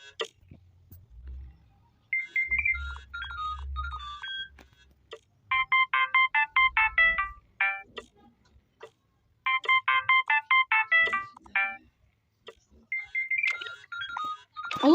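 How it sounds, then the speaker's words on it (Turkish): A phone ringtone from the Toca Life World video game plays as a bright, beeping electronic melody in several repeated bursts separated by short pauses, clear and loud with no one talking. "Gözümü açmamla telefon çalıyor."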